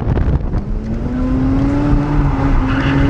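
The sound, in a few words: Mazda RX8 drifting after a clutch kick, tires squealing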